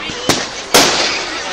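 Bonfire night fireworks bursting outdoors, two sharp loud bangs in quick succession over a steady crackling hiss, with people talking excitedly nearby.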